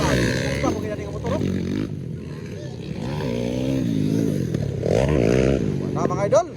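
A motorcycle engine revving and roaring during a rider's attempt at a triple, rising and falling under loud excited talking and shouting throughout, with a sharper burst near the end.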